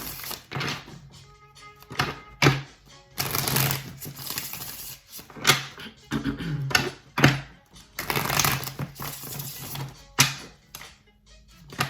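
Tarot cards are shuffled in repeated bursts of crisp riffling and soft slaps, close up and fairly loud, with brief pauses between each pass.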